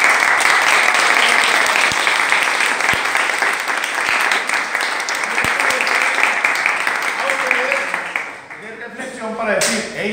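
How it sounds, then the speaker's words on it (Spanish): Loud, dense applause fills a room during a music training session for student monitors, sustained for several seconds before fading, with voices and other sounds emerging near the end. "Un aplauso para ellos"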